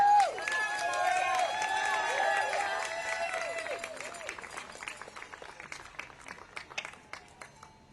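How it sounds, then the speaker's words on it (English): An audience at a press conference with survivors and lawmakers claps in a dense burst of applause under tonal sound, which thins into scattered claps and fades over several seconds. "Give a big round of applause to all the survivors and all the victims and all the supporters today."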